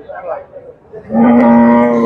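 A Sahiwal calf lets out a loud, drawn-out moo up close at a cattle market after a moment of faint background noise.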